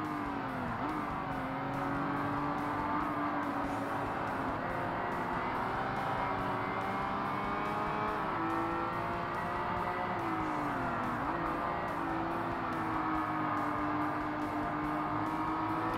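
A race car in Forza Motorsport on hard difficulty holds a continuous, loud engine drone with shifting pitch as it rises and falls through gears around long corners, joined by faint tire noise and no talking.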